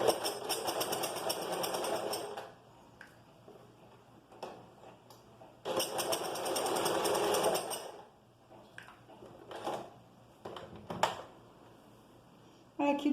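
Domestic sewing machine stitching the seam of a flared skirt in bursts of fast whirring, each run lasting a couple of seconds, separated by pauses filled with fabric handling and small clicks.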